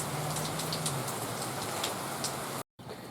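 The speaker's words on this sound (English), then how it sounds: "watch the rain come down" Rain falls steadily in a dense, even hiss with scattered drop patter, loud and continuous, with a brief dropout near the end and no talk.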